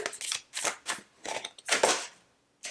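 A full tarot deck being shuffled by hand, a run of crisp papery riffles and cuts in quick bursts separated by short pauses, close and fairly loud with no talk over it.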